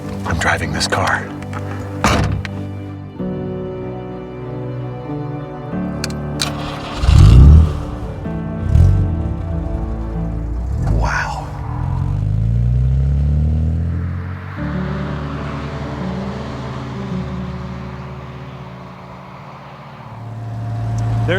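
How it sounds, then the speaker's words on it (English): A Ferrari Testarossa or Jaguar E-Type engine hums and revs steadily while driven, close and loud, with a person talking over it and a few thuds and shifts in between. "I'm driving this car."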